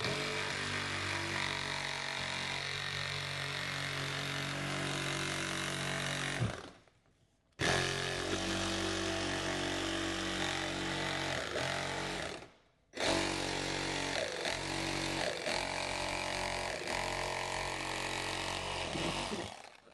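A power tool blade saws through a plastic speaker mounting template during a 2015-20 car speaker install, a loud continuous buzzing whine that stops briefly twice before resuming.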